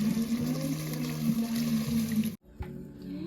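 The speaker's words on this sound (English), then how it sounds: "Put some chicken stock, or if you don't have chicken stock, you can just use water just to cover it" Chicken stock or water pours into a cooking pot for chicken afritada, a steady close splashing stream that stops abruptly, followed by a few quieter drips and settling liquid.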